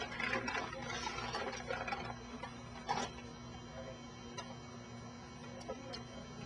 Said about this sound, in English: This pulls the film and the board in all at once